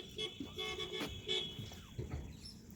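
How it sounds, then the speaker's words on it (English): A car horn beeps at a boat ramp, giving a few short, moderately distant toots over open outdoor ambience with faint background noise. "Maybe that's him beeping"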